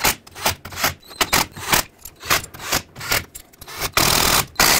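Bolts on a Ford F-150 rear axle being tightened with a hand ratchet or wrench, a regular series of short rasping clicks in quick repeated strokes, close and loud, ending in a longer grinding pull.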